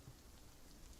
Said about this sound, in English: We still got the rain going, which is cool.